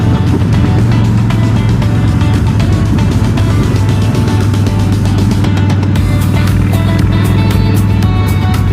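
A Harley Softail Springer fitted with Big Shot Staggered exhaust rumbles loudly and continuously as it rides along a road, with wind rush and a steady deep engine drone.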